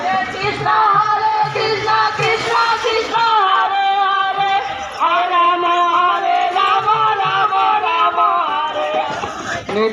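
A large crowd of pilgrims on the Nabadwip Dham parikrama fills the air with loud, close, dense voices. Overlapping chanting and singing continue without a break.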